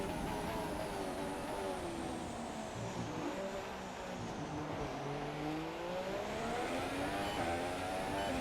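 A Formula 1 car engine in F1 2017, racing on the final laps of an event, drones steadily throughout with pitch rising and falling as it shifts and accelerates, loud and continuous with no talk.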